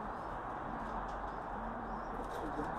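Racing pigeons coo softly inside a loft the day after a 60 km training flight, low faint murmuring calls over a steady hum of background noise, with no one talking.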